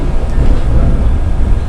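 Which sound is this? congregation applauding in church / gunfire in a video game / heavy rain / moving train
moving train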